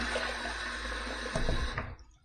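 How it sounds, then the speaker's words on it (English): Tap water runs steadily before a face is wetted for shaving, then a brief splashing as hands catch the stream and the flow cuts off. "Let's wet the face."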